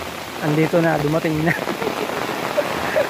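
Heavy typhoon rain pours down on a ginger planting, a dense steady patter heard close and loud, while a voice speaks briefly over it at the start before the downpour continues alone.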